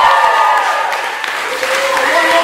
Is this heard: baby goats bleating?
no